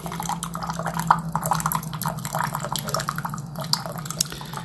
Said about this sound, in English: And you can see the hot water, how it's coming out and dispersing to this system.